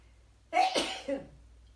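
A single close, sharp sneeze bursts out, followed by a short trailing exhale.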